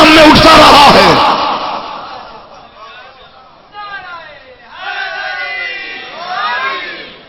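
Crowd at a Safar religious gathering at Darbar Noor Shah shouting slogans in unison, a loud burst of massed voices at first, then fading into scattered calls and rising chant-like voices, fairly close and reverberant.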